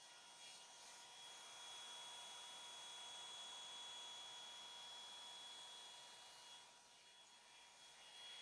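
Steady whooshing blower noise with a faint high whine, constant and fairly loud throughout, easing slightly near the end.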